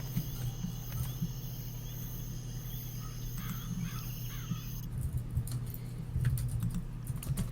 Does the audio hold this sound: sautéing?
no